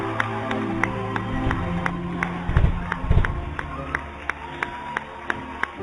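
A church congregation claps and cheers at a Christian service, a rhythmic, evenly spaced clap pattern over sustained musical tones, with a swell of crowd noise and cheering in the middle, moderately close.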